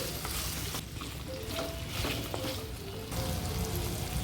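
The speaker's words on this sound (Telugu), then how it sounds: "వంకాయలతో పాటు చిలకడ దుంపల్ని కూడా మగ్గించుకోవాలి" Steady sizzling of brinjal and sweet potato frying in oil, with occasional stirring scrapes and clinks, continuous and close, no talk.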